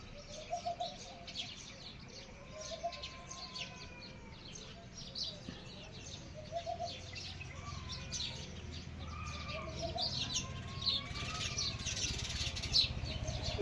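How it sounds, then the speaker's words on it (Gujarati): Sparrows chirp repeatedly at moderate distance, short tweets and calls scattered over steady outdoor background noise, with a few cooing notes mixed in. "એ ચકલા એનો માળો ગોતતા હશે."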